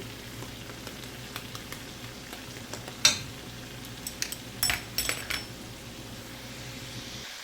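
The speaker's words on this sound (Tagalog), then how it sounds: "So, iprito natin hanggang mag-brown." Pilipit glutinous rice dough fries in hot oil with a soft, steady sizzle, broken by a few sharp clinks of utensils against the pan.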